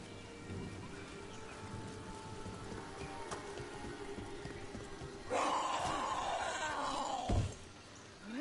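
Steady rain falls throughout a Dragon Age: The Veilguard game scene, with a heavier crackling rumble like thunder swelling midway and ending in a sharp thud.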